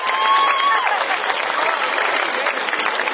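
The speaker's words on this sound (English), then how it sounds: "let's give Fusion a big clap" A crowd applauds steadily at the launch of the Rundle Lantern, dense clapping that swells early and then holds at an even level, with some voices mixed in.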